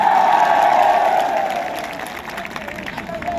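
A crowd at an Aam Aadmi Party campaign rally for candidate Mamta Meena claps and cheers in a dense, steady wash of applause. A loud voice speaks over it through a PA, and the noise slowly thins toward the end.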